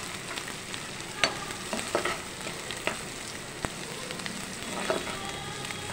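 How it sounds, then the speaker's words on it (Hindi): Spices, onion and ginger sauté on medium heat for baingan bharta, a soft steady sizzle with occasional sharp clicks and scrapes of a spoon stirring the pan, close and quiet, no voices. "सभी मसालों को अच्छे से भून लेते हैं मीडियम फ्लेम पर, आराम से भूनते रहें।"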